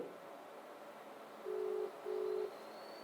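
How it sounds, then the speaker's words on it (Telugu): Two long electronic ringback tones purr over a faint hiss, separated by a short pause, clear but not loud. "ఇగో రింగ్ అవుతుంది."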